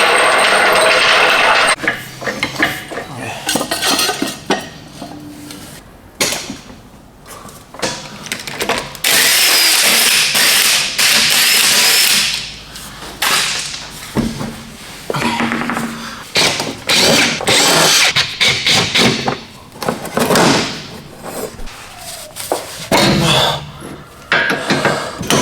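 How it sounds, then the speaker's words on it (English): A VW/Audi's rear end is jacked up during a coilover install, with loud, irregular metallic clanks, knocks and rattles throughout and brief quieter gaps between bursts. "So I'm gonna go ahead and jack the rear up, and then we can slam the rears."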